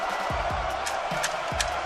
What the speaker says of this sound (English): Crowd letting him hear it.